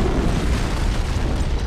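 An antimatter charge detonates aboard a ship in a Halo CE game cinematic: a loud, dense, continuous roaring blast with no voices over it.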